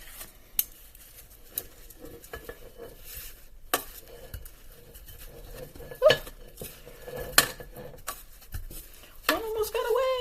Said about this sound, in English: we are going to add in all of our meatballs that we just got done cooking. Add them into your slow cooker.